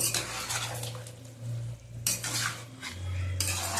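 Yogurt chicken being stir-fried in a pan, with a steady sizzle, metal spoon scraping and clinking against the pan in bursts, and a low hum beneath, no talking.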